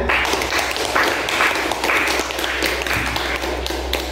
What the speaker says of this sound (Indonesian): Aplaus buat kelas 11 IPA 5 ya